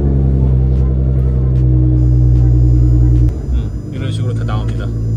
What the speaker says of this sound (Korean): 여기 보시면은 시동을 걸면은